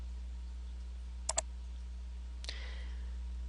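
A computer mouse clicks as a file upload is started: a quick double click, then one softer single click a moment later, close and sharp against a low, steady electrical hum.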